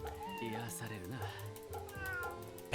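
A cat in the video game Fate/Samurai Remnant meows in drawn-out, wavering cries, mixed with a voice talking and background music.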